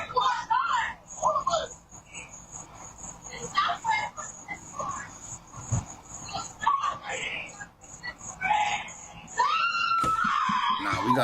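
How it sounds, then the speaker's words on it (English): People scream in bursts amid a chaotic crowd during a shooting at a Bronx barbecue, with high shrieks and yelling voices mixed together, moderately distant and uneven. "you can hear screaming"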